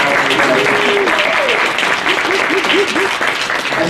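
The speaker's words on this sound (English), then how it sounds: "let's give a nice round of applause to the panelists who took their time out" Audience applause for a panel of speakers at a community partner work session, a dense, steady wash of clapping with voices talking faintly underneath.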